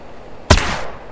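A single sharp gunshot from a video game cracks out loud and close, followed by a short decaying tail over quiet background.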